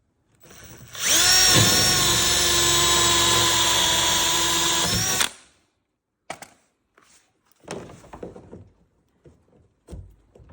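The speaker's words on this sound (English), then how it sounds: "You'll use a 1-inch drill." A 1-inch drill bores a hole at a creek bank tank install with one loud, sustained whine of about four seconds, followed by scattered knocks and handling thuds.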